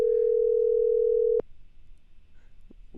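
A steady telephone dial tone sounds loud and unbroken for over a second, then cuts off with a click, leaving quiet line hiss and another faint click.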